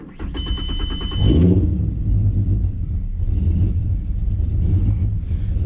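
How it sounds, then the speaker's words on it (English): Car engine fitted with an idle chop mod, starting with a brief rev and then settling into a loud, close, lumpy idle that keeps rumbling on its own. "I don't know if the idle chop sounds as good as before"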